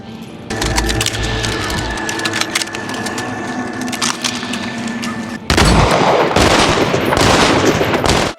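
A dense burst of gunfire shot into the air, rapid overlapping cracks going on and on, then a louder, harsher volley near the end, with a faint voice briefly under the shots.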